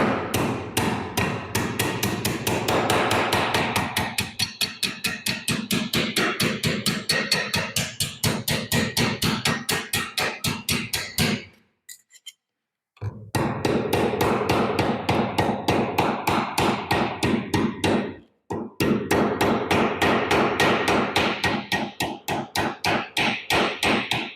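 Hammering on a metal armor piece to roll its edges, a fast, loud, relentless run of close metallic blows that pauses briefly twice before resuming at the same pace.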